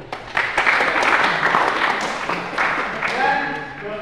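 Students in a classroom burst into applause, a dense, fairly loud wash of many hands clapping that holds steady before tapering as a voice starts speaking near the end.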